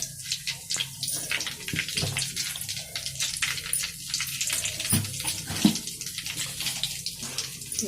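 Cumin seeds sizzle in hot oil in a pan as a dosakaya pachadi chutney is cooked, giving a steady close crackle with a few sharper pops scattered throughout.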